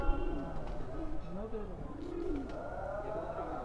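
Repeated rolling coos from a light-weight Allahabadi tournament pigeon with red eye rings, close and clear, over a constant low background hum.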